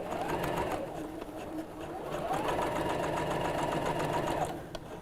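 Close by, a sewing machine stitches a quilted pouch in two steady runs, the motor whirring with rapid needle clatter, easing briefly between bursts and stopping near the end; no speech over it.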